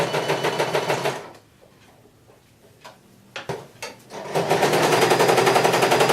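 A sewing machine stitches a neck facing in fast rhythmic bursts, running loudly, pausing for a few seconds with small clicks and handling noises, then starting up again close by.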